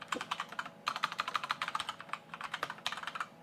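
Fast, crisp keystrokes on a keyboard used with an iPad Pro or Surface Pro, heard close and alone, a steady patter of clicks with a brief pause near the start.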